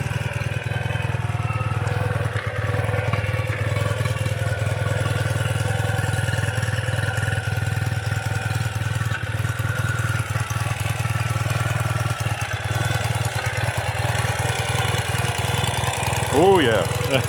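Ural cT motorcycle engine fitted with Keihin EFI idling steadily up close, a low, even thrum with a faint rise near the end.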